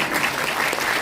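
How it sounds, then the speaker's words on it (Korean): Dense applause from an audience at a book-launch talk concert, steady and fairly loud for the whole moment, a brief burst with no speech over it. "박수 주십시오."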